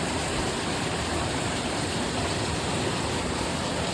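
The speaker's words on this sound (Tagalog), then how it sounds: "Malakas ang ulan." Heavy morning rain pours down steadily in a dense, continuous roar that stays loud and even throughout, with no voices heard.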